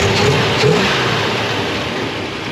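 The 428 big-block V8 in a 1962 Ford Thunderbird revs loud and close. A brief rise in pitch settles back into a smooth, heavy drone, with no voices over it.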